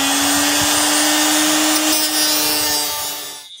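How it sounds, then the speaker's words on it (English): Sawzall reciprocating saw cutting on a front-wheel-drive Hornet race car being prepped for a speedway, a loud, steady buzzing cut close up that stops abruptly at the end. "We're gonna use the sawzall now."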